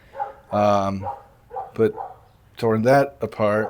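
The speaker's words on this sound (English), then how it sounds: "I'd excuse the dog barking if you can hear that." A dog barks in short harmonic bursts, close by, mixed in with and partly under someone talking.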